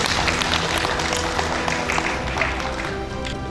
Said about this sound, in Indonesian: Kita beri tepuk tangan dulu kepada beliau ya.